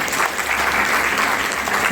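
Audience applause at a school general awareness program, a dense, loud burst of clapping from a crowd that carries on without a break.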